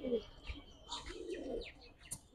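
High flyer pigeons make soft, low coos mixed with a few short chirps, quiet and close, in brief irregular bursts.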